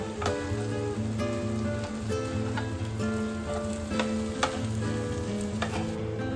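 Boiled potato filling with salt and spices being mixed in a sizzling pan for singara, a steady close frying hiss with soft stirring taps throughout.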